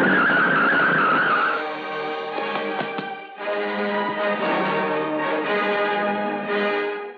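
A car brakes hard, tires squealing in a high skid for about a second and a half before it halts, followed by a lingering resonant ringing tone over quieter background sound, with no talking.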